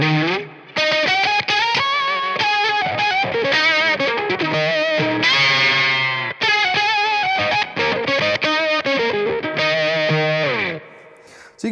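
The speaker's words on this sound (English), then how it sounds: "the cool thing is you can add it to any other drive to create your fuzz octave" Electric guitar played through an Octavia fuzz octave pedal stacked with drive, producing a thick, buzzy distorted tone as notes and partial chords ring continuously and loudly.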